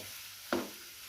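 Vegetables stir-fry in a pan for Chinese fried rice, giving a faint, steady sizzling hiss with a single brief scrape or clink of a utensil midway.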